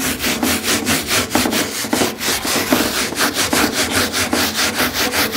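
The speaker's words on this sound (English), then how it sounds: "Add the soap to your brush. Add quite a bit of it. And just scrub the grates." Offset smoker grates scrubbed with a soapy brush, a steady back-and-forth rasping scrub in fast regular strokes, close and loud with no talk.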